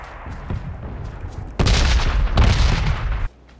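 Explosions from the red zone bombardment in the PUBG battle royale game, a low rumbling wash that jumps loud midway and roars for under two seconds before cutting back to quieter background.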